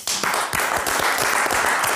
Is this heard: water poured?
no